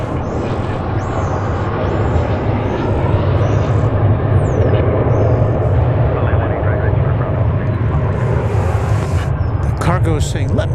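Jet airliner taking off from runway 1 left at Dallas Fort Worth Airport, a steady loud engine roar sustained throughout with low rumble, heard from a distance outdoors alongside faint bird chirps.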